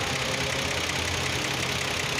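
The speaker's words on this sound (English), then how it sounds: "Kia Sorento 6-cylinder V-type engine." Kia Sorento V6 engine idling during an oil change, a loud, steady, close mechanical hum with an even rattle and no break.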